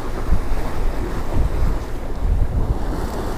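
Ocean waves wash steadily along the sea, a loud, broad rushing surge mixed with wind buffeting the microphone, with no voices.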